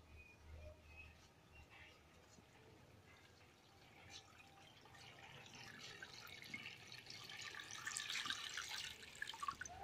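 Water trickles and splashes onto soil and stone chips in a potted gerbera plant, starting faintly and growing into a louder, steady pouring patter near the end.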